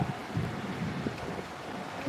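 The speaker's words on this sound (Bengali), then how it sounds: "অনেক দারুণ সুন্দর হাওয়া দিচ্ছে" Wind gusting across a rooftop during a rainstorm with lightning and thunder about, a steady, close blustery rush buffeting the microphone for a couple of seconds.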